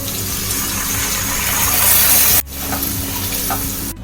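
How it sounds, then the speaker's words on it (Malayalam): Second coconut milk pours into masala in a pan for fish molly, giving a loud steady hiss of liquid meeting hot spices that cuts off sharply, then low bubbling and sizzling continues. "നമുക്ക് തയ്യാറാക്കി വെച്ചിരിക്കുന്ന രണ്ടാം പാൽ ഒഴിച്ചു കൊടുക്കാം"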